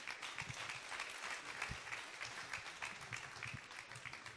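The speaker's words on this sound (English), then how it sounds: "Can you give them a round of applause?" Steady applause from an audience fills the space, fairly faint and distant, continuing throughout without a break.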